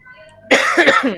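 A male teacher gives a single harsh cough, loud and close, after a brief quiet moment.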